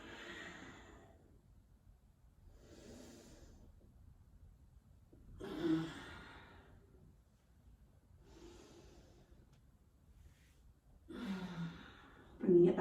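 Slow, rhythmic breathing during a strong yoga flow: five soft, evenly spaced exhales, heard close and gentle with no talking.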